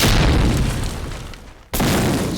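A grenade explodes in a Medal of Honor Allied Assault multiplayer match, a loud booming blast that trails off into rumble before another burst abruptly starts.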